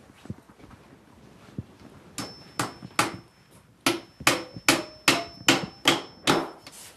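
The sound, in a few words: hammer pounding joints of beekeeping equipment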